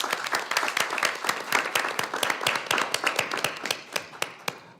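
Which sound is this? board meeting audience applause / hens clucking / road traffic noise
board meeting audience applause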